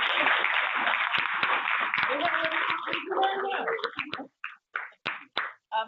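A seminar audience gives a full, close burst of applause for a speaker that thins out after about four seconds as a voice begins talking.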